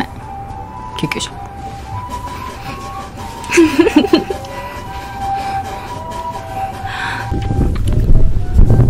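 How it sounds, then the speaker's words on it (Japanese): An ambulance siren's tone wavers in the background while people talk over it, with brief louder bumps and a rumbling rise near the end. "ちょっと待って、ごめん、救急車"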